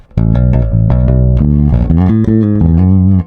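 A clean, deep-toned bass guitar plays a Dorian mode melodic line of distinct plucked notes at a moderate pace, loud and close, without any voices.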